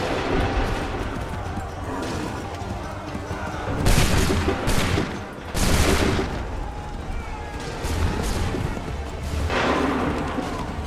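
Soldiers in Assassin's Creed III let loose musket volleys, heavy bursts of massed gunfire rolling out at close range in several waves over a steady din of battle, with shouting voices mixed in.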